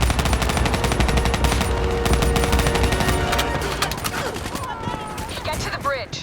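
Rapid automatic gunfire in Call of Duty: Black Ops 3 rattles in dense bursts for several seconds, then thins to scattered shots and whizzing effects, with voices speaking over the fight.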